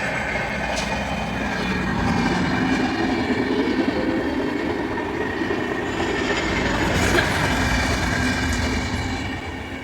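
A train rolls past close by, its steady loud rumble carrying rhythmic wheel clatter and faint metallic squeal for the full stretch, with no voices.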